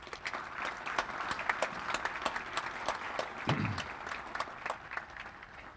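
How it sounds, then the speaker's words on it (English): An audience at an Army War College award ceremony for the 2021 class gives steady, sustained applause for the Fellows Award winners, with dense clapping filling the hall throughout. "please join me in a round of applause for our War College Fellows Award winners"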